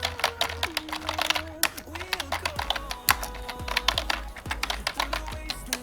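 An email address is typed on a computer keyboard in quick irregular bursts of light clicking keystrokes, close and fairly clear, with a few louder taps mixed in.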